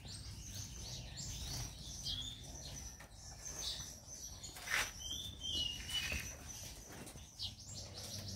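Small caged birds chirp and tweet in a quiet room while a mother feeds her chicks, with scattered high, thin calls and brief wing flutters close by.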